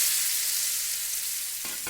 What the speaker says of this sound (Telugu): ఇప్పుడు టమాటాలు దీంట్లోనే వేసుకున్నానండి